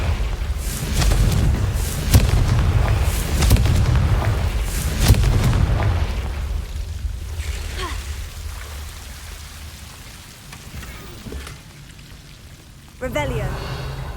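A Confringo spell from the video game Hogwarts Legacy, cast at Devil's Snare guarding a chest, gives several heavy booming blasts over the first six seconds, followed by quieter crackling and a sharp burst near the end, with talk over it.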